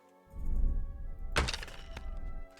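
In Kingdom Come: Deliverance 2, a crossbow bolt strikes an enemy's head with one sharp, heavy thunk midway through, preceded by a low rumble and followed by a fainter knock.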